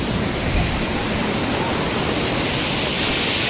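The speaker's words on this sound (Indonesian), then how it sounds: "Karena dia airnya mengalir ke arah air terjun." Clear water flowing toward a waterfall at Gunung Tujuh lake in Kerinci, a loud, steady broadband rush of moving water with no pauses, close and unbroken throughout.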